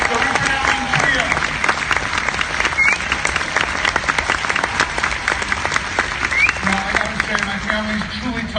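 Loud, sustained audience applause with scattered cheers and whistles fills a tribute event honoring pianist Richard Allen, steady dense clapping throughout with occasional voices rising over it.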